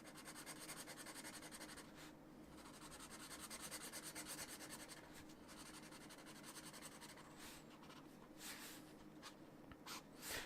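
Pencil or marker scratching and rubbing across paper while filling in a black shape on a thumbnail sketch, a quiet, close, continuous scribbling with brief pauses between strokes.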